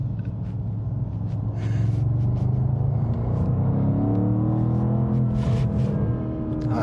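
A BMW M850 engine drones steadily while driving, its harmonic tones rising and falling with acceleration, loud and close throughout with no talk.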